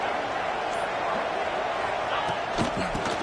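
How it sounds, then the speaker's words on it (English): A crowd in a football stadium at a college playoff game roars in a dense, steady wash of cheering, loud and continuous from a distance, with a commentator talking over it. "It's early, but this crowd is fired up. Listen to this noise here."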